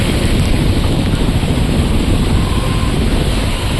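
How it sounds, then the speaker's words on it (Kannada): Heavy rain pouring down outdoors in Yadagiri, a loud, dense, unbroken hiss that fills everything with a windy roar and no pauses. "ಫುಲ್ ಜೋರು ಮಳೆ ಬರಾಕಿತ್ತು"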